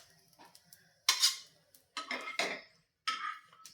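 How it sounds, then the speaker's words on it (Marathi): Toasted pav lifted off a hot pan onto a plate, heard as a few sharp clinks and scrapes of utensil against metal and crockery in separate bursts, close and fairly quiet with gaps between. "तर आता हा एका प्लेटमध्ये आपण काढून ठेवूयात"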